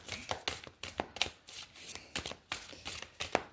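A deck of oracle cards shuffled by hand, brisk papery riffles and slaps in an uneven rhythm of a dozen or so bursts, close and quiet, with no voice.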